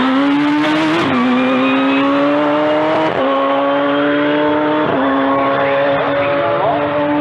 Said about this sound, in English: for Simon Marsh with a supercharged car